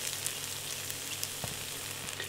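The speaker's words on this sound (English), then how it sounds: "Sizzling away" Steady crackling sizzle of hot, spicy chicken chunks fresh from the oven, continuous broadband hiss with scattered pops, close and fairly quiet, no talking.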